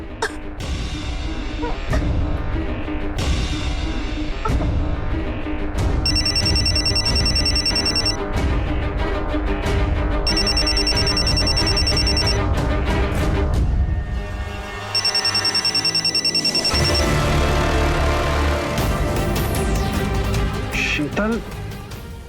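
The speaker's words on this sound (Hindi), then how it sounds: "फोन उठाओ।" A telephone bell rings in repeated bursts during a crime drama, sounding over background music and people talking.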